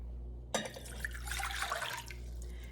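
Water poured into a container for sweet refrigerator pickle brine, a steady splashing pour that starts abruptly and runs for about two seconds over a low kitchen hum.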